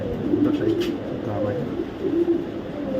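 Soft, low cooing of racing pigeons in a loft repeats a few times over a constant background murmur, with faint chirps at moments.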